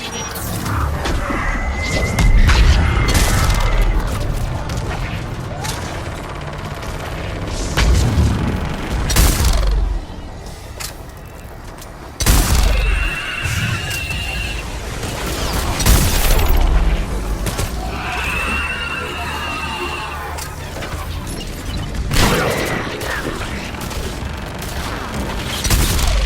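Missile strikes and explosions in Mass Effect 3: repeated heavy booms and crashing blasts with gunfire-like bursts, loud and close, separated by rumbling lulls and mechanical noise.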